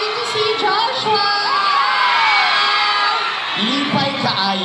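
A crowd at an SM City mall event cheers and shouts loudly and continuously, with high children's yells and whoops rising above the roar and a voice calling out over it.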